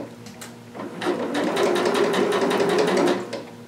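A home sewing machine stitches fabric right over pins: a soft start, then a steady, rapid mechanical whir with fast needle ticks for about two seconds before it slows and stops.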